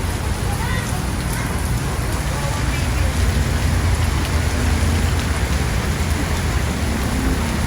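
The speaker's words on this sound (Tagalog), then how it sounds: "Silong muna tayo saglit. Lakas ng ulan." Heavy rain pours down in a dense, constant hiss, drumming loudly on a nearby surface without letup.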